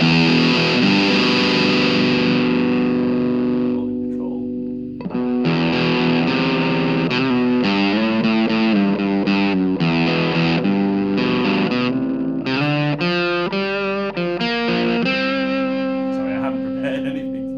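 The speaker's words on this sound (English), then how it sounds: "I want it to be a really heavy distortion sound, but one that cleans up and has control" Heavily distorted electric guitar plays sustained chords and riffs, thick and saturated, with a short pause before continuing, loud and close.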